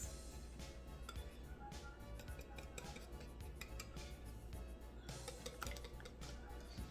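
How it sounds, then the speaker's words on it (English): Buñuelo batter being stirred with milk in a bowl, a steady scraping swirl with light clinks of a utensil against the sides, moderately close and continuous with no talk. "Adding the rest of the milk. And then we're just gonna stir this."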